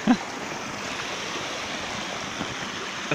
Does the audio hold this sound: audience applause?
no